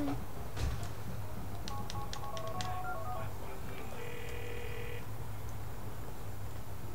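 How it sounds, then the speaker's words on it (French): A mobile phone in GTA IV gives a series of electronic keypad beeps and tones, followed by a sustained ring tone, over constant game background noise. "Il y a Michel qui t'appelle au téléphone"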